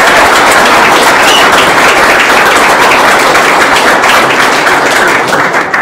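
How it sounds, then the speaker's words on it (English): An audience at an event gives a loud, sustained round of applause, dense clapping filling the whole clip with no talk. "One more round of applause for"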